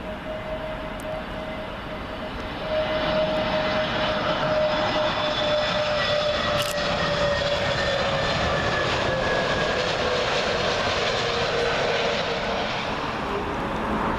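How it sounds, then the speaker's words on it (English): Eurowings Airbus A320neo jet arriving from Dusseldorf on the 27L approach at Heathrow, its engine roar swelling and holding loud and steady for the whole pass, with a thin whining tone sliding gradually downward. "Eurowings A320neo, arriving from Dusseldorf"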